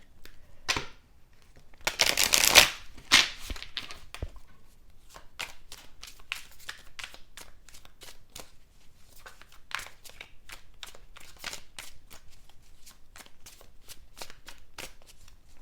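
Tarot cards are shuffled close up, first in a loud riffling burst, then in a long series of soft, rapid slaps and flicks, with no one speaking.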